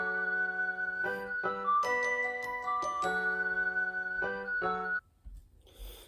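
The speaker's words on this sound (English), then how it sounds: "So this is a piano, flute, and bells. Sounds like this." Piano, flute and bells play a bouncy orchestral beat breakdown. Sustained tonal chords and bright bell notes shift every second or so, then drop out near the end, leaving faint noise.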